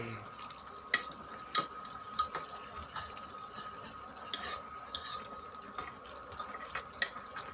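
A large spoon stirs a village-style vegetable dish of chana, bhaji, brinjal and barbatti in a pan, giving scattered light metallic clinks and scrapes at an uneven rhythm over a soft background hiss, with no talking.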